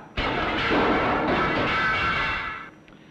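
A loud burst from an electromagnetic launcher firing a four-pound missile, a broad rushing whoosh that holds for over two seconds before cutting off, heard alone without talk.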